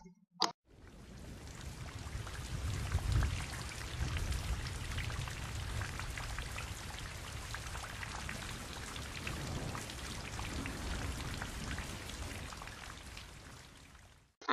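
Rain pours down steadily in a dense, continuous hiss of drops striking surfaces, constant in loudness from start to finish after a brief quiet opening.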